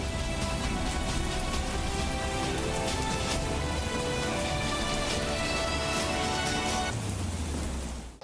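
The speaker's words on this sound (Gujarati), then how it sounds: "છેલ્લા 30 મિનિટથી ધોધમાર વરસાદ છે તે વરસી રહ્યો છે" Heavy rain pours steadily in Rajkot, Gujarat, a dense, constant hiss of drops on surfaces that runs without a break and fades at the end.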